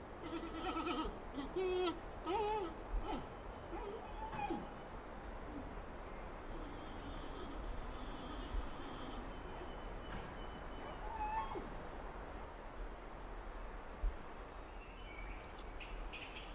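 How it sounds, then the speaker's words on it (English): Bleating and chirping calls from wild giant pandas at a distance, a few bursts early on and sporadic squeaks later over a steady outdoor hiss. "the sound of loud bleating and chirping raises hopes"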